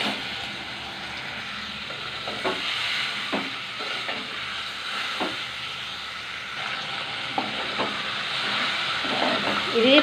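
Chicken sizzles steadily in a small amount of oil in a pan, with a continuous hiss broken by occasional clicks and light stirring taps throughout; no talk is heard.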